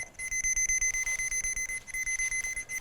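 Signal tone from an Armada Pro881 digital underground cable locator, a rapid pulsing high-pitched electronic beep repeating about six times per second, clear and steady with no talking.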